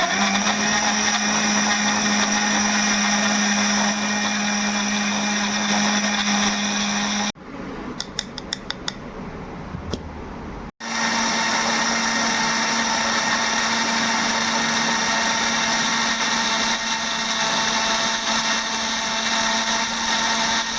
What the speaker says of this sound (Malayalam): ഞാൻ ഈ മിക്സിയിലിട്ടിട്ട് മിക്സി ഓൺ ചെയ്യാൻ പോകും.